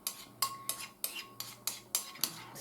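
A spoon stirring blended fruit cocktail and sweetened condensed milk sherbet in a dish, eight quick rhythmic scraping clinks, close and fairly soft, alone.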